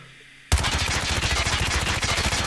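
A QQ9 gun in a shooting video game fires from the hip in a rapid, unbroken burst that starts abruptly after a short quiet moment and stays loud and close, each shot a tight repeating crack.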